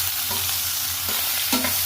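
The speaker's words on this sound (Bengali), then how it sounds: "এবার এগুলো দিয়ে দেবো। দিয়ে ভালো করে ভেজে নেব।" Shrimp fried in hot oil with black cumin and turmeric give a loud, continuous sizzle close up, with a couple of stirring scrapes and no voices.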